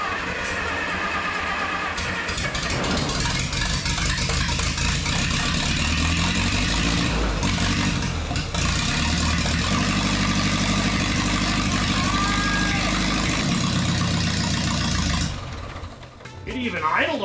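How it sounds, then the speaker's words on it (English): A vintage rail cart speeder engine idles steadily on train tracks in Utah, a loud, continuous rattling chug up close that cuts out near the end, with voices talking over it. "It even idled okay."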